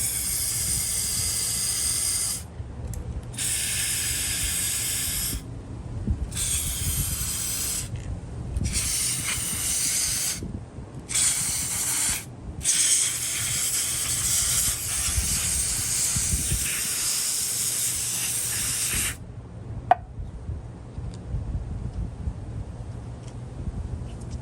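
Cleaner sprayed into an All Timer Model 549 toy drill comes out as a sustained, loud aerosol hiss in repeated bursts with short gaps between them, then drops away near the end, leaving a single faint click.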